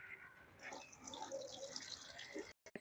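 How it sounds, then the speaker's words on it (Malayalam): Water poured into a lotus planting tub over a leaf, a steady splashing trickle lasting a couple of seconds before cutting off. "വെള്ളം ഒഴിച്ചു കൊടുക്കാവേ"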